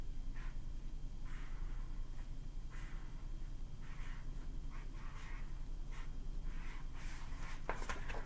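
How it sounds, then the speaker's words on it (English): A marker scratches out a word on a sentence strip in short, close, faint bursts of squeaky strokes separated by brief pauses, over a steady low room hum. "on the sentence strip, go ahead and write down the second header word"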